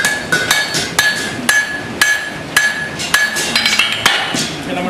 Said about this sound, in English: Move over to my lighter hammer to do some finesse work.